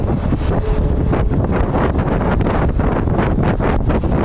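Strong wind buffets an outdoor microphone at an airport plane-spotting spot in Phoenix, a loud continuous rumbling roar with repeated gusty bursts throughout.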